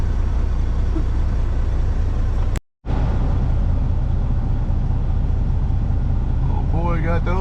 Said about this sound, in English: Oh boy, got that old Freightliner running.